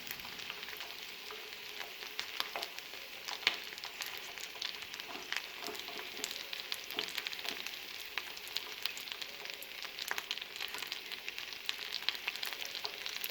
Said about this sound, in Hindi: ये देखिए ये फ्राई हो चुके हैं, इनमें अच्छा सा कलर आ चुका है